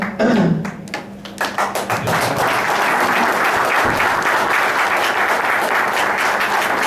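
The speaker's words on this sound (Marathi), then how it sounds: "अजून जोरदार टाळ्या झाले पाहिजे त्यांच्यासाठी" A seminar audience in a hall bursts into applause, a dense sustained clapping after a few scattered early claps, loud and close throughout.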